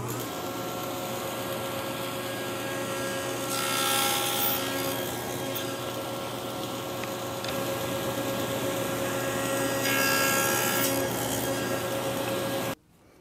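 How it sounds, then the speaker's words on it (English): A table saw with a carriage mounted on its miter gauge cuts thin wood slats for a tambour door, a steady loud motor whine and roar with two rising bursts of blade biting through the wood before it cuts off. "we've got a little carriage here that we've mounted to the miter gauge that allows us to cut this accurately"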